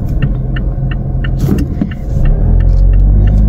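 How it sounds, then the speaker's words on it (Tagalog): A car engine rumbles up close as the vehicle reverses, with a low steady drone that grows louder and heavier toward the end, accompanied by faint rhythmic clicking. "Atras na ba yung kotse?"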